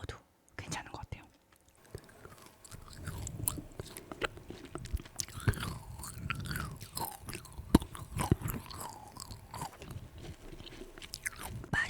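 Close-up crunching and gnawing on a hard frozen Welch's-flavored kohakuto jelly, irregular bites and chewing with soft whispered speech over the top.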